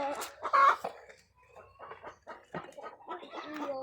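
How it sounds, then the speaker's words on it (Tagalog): Chickens on an egg-harvesting farm give a run of close, irregular clucks and squawks, with short bursts and pauses between. "Ito yung mga manok."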